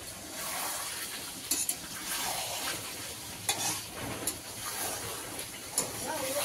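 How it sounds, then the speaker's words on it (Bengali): Potatoes are stirred in a sizzling pan for a red chicken curry, a steady soft fry punctuated by several sharp clinks and scrapes of a utensil against the pan. "আলুটা দিয়ে একটু নাড়িয়ে নেবো।"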